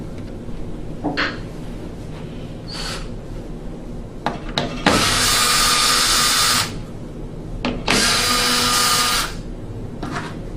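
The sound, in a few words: loosening hose clamp screws on a gas furnace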